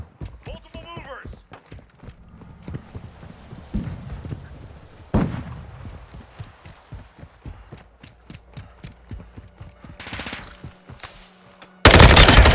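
Gunfire in a military shooter video game, with scattered shots and short bursts crackling over several seconds amid radio-style voice chatter, ending in a loud dense burst.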